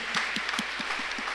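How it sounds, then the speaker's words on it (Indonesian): Applause from a church youth gathering at an evening Bible study service, a steady medium-density patter of clapping with faint periodic low thuds underneath and no speech. "Kasih tepuk tangan dong."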